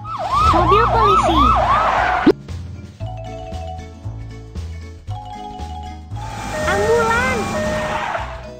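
An ambulance siren in a children's vehicle video game gives two loud bursts of rising and falling electronic wails over bouncy background music, separated by a stretch of music alone.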